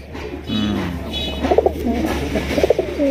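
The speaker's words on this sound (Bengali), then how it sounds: "কবুতর ডাকটা তো একটু দেখা দিতে হবে আবার ভালো করে" Rajgolla pigeons cooing in a loft, several throaty repeated coos in short bursts, fairly near, with soft bird calls and low background hum.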